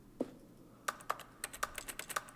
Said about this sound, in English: I'm hacking the Matrix. Typing all the keys.